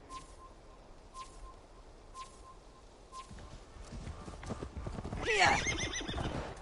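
Quiet hoofbeats clip-clop at a slow walking pace in the video game Assassin's Creed Valhalla, then a horse neighs loudly near the end, with faint birdsong in the background.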